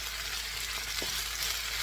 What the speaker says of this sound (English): Sizzle sound means nicely, beautiful, happy cooking.